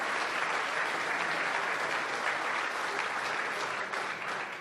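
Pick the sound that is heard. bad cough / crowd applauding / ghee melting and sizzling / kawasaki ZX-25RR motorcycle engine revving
crowd applauding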